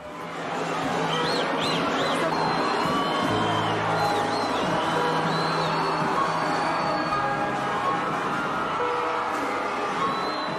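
A festive crowd in Brazil celebrates the national team's fifth World Cup title in 2002, with sustained cheering, whoops and shouts that stay loud and dense throughout.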